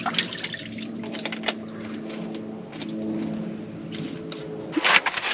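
Water running through the ancient Cantalloc aqueduct near Nazca, a steady flowing and trickling wash with brief louder splashy moments, close by and without speech.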